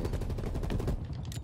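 Rapid automatic gunfire from a Call of Duty Cold War beta match, dense repeated bursts rattling continuously and loudly with no pauses.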